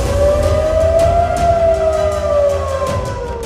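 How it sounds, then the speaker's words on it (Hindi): An air raid siren in South Korea wails in a long, slowly rising and falling tone, loud and continuous, with faint background noise underneath. "दक्षिण कोरिया में सारी रात सायरन बजता रहा।"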